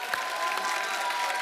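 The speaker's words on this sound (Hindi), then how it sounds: "इनके लिए भी जोरदार तालियां।" Studio audience on The Kapil Sharma Show, a TV comedy program, bursting into loud, dense applause and clapping that fills the short stretch evenly, with a faint crowd murmur underneath.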